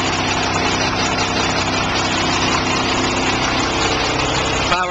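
Caterpillar diesel engine in a truck with an Allison transmission, gross vehicle weight 24,980, running steadily at idle, a constant loud drone throughout with no talk.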